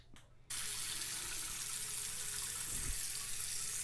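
Water gushes from a tap into a sink for rinsing, starting abruptly after a brief moment and then running as a steady, close hiss.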